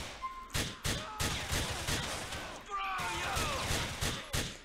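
Rapid video game gunshots in Grand Theft Auto IV, a string of sharp, loud cracks roughly every third of a second, with thuds and someone talking over the shooting.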